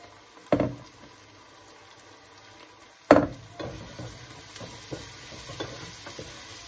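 Onion and leek fry in ghee in a pan with a soft, low sizzle, punctuated by two loud clanks of a utensil and lighter scraping afterward.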